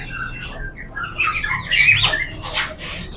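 Fancy and imported birds in a shop in Rashadabad, Multan, give bright squawks and chirps in short, scattered bursts. The calls are nearby and fairly loud, with no speech.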